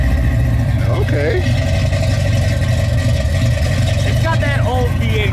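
A 1967 Chevrolet Nova Sport Coupe V8 with long-tube headers, an H-pipe and Flowmaster exhaust idles with a loud, steady, lumpy rumble, while people talk over it.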